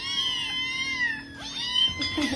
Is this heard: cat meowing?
yes